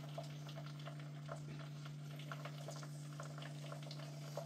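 Curry leaves, flowers and onion fry in oil for homemade hair oil, a faint steady bubbling and sizzle with soft stirring under a constant low hum.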